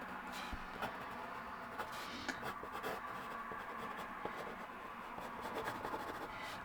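A pencil scratches steadily across paper while a line is drawn, a soft continuous rasping with small ticks, close and quiet, with no talking.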